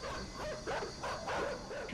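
Dog in the video game Inside gives a rapid series of short, fairly loud barks in quick rhythm over a brief stretch.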